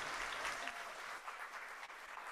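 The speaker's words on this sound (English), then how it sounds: "Let's give one more round of applause for our incredible panel." A live audience applauds a panel of women leaders at an Indian American community event, a steady wash of many hands clapping that holds for the whole stretch, fairly quiet and distant with no talk over it.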